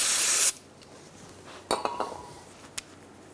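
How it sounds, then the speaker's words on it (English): A short hiss of parts cleaner sprayed onto brake caliper pins from a Ford Focus front brake job, followed by a few light metallic clinks and handling noises in a quiet space. "we're going to spray our pins and wipe them down"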